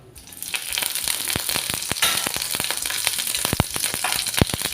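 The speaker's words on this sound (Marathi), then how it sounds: "आता आपण फोडणीसाठी कढीपत्ता घालणार आहोत" Curry leaves sizzle and spit sharply in hot oil, with a run of crackling pops over a steady frying hiss.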